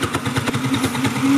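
Kids' Sew Cool no-thread toy sewing machine running steadily, a buzzy motor whir with a rapid repetitive clatter, fairly loud and close, with no talking.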